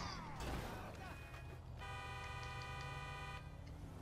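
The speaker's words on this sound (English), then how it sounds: "play the honk" A car horn in GTA Online sounds one long, steady honk, fairly faint in the mix, following a crash-like jumble of game noise.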